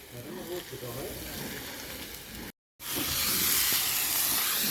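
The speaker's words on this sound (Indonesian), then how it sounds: "kita gongseng, kita tumis sampai wangi" Spices and aromatics for Batak saksang hiss and sizzle loudly as they are stir-fried at a village feast kitchen, with a brief cut before a louder, steamier stretch of frying.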